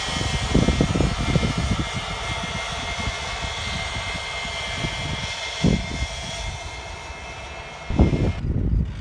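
A farm tractor pulling a silage corn planting machine drives away across a village field in Kastamonu, Turkey, its steady engine rumble loud and continuous with brief bursts of louder revving, no talk.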